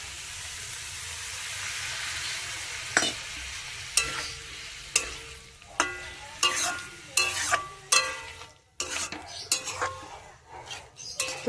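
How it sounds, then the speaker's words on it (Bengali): Water goes into a pan of sautéing vegetables for Bengali shukto, set off by a sharp burst of sizzling, followed by repeated scraping and clanking of a spoon against the pan, close and fairly loud. "এবারে আমি জল দেবো তো প্রথমে আমি পাতা ধোয়া জলটাই দেবো"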